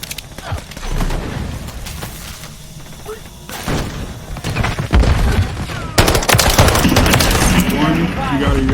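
Rapid gunfire from a pistol in the online survival game Rust, sharp repeated cracks and thumps loud and close in dense bursts with no talk.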